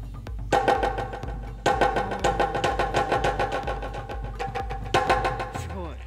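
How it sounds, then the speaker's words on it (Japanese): Shime-daiko ensemble sound on a Roland Taiko-1 electronic drum played through a delay effect, rapid repeated hits forming a dense rhythmic pattern with echoes trailing after each strike, loud and steady. "これにディレイというエフェクターをかけてみたいと思います。"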